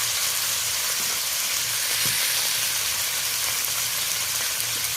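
Cauliflower florets frying in oil with salt, a dense, even sizzle that stays loud and close for the whole stretch, with faint stirring knocks underneath and no speech.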